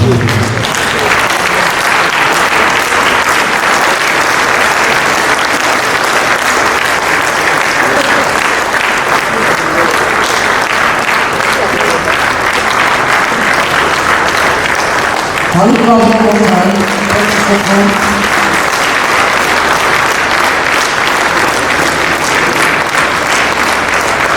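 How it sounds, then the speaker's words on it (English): Sustained, dense applause from a large standing audience at an opening ceremony in Ogun State, loud and steady throughout, with a brief voice rising over the clapping near the end. "can we stand up and clap for both the Awujale and the governor?"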